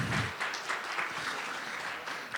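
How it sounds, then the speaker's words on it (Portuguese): A group applauds the coordinators at a quantum computing track session, a soft, fairly distant spread of clapping that stays even and then gently trails off. "Uma salva de palmas para a coordenação e para a trilha."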